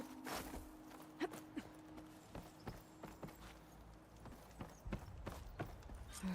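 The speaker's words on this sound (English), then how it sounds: "Hear footsteps." Footsteps in a robot-hunting video game sound as a steady series of distinct thuds and clops over a faint ambient hum, moderately close with no talk.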